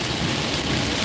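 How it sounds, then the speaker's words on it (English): Heavy rain pounds steadily on a car driven slowly along a 50 mph road, a dense, loud, continuous wash with low engine and road rumble underneath and no talking. "I'm just trying to talk a little bit over the rain."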